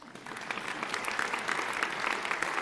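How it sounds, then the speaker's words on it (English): Legislators and guests at the New Mexico State of the State address fill a large chamber with sustained applause, a dense and even wash of clapping that builds slightly. "I think you should clap for that"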